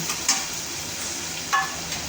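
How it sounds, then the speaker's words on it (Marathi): Onions with crushed ginger and garlic sautéing in a pan for soybean bhurji, a soft steady sizzle with a couple of brief stirring scrapes, close and alone. "आता याला छानपैकी परतू द्यायचं आहे थोडा हलकासा कलर चेंज होईपर्यंत"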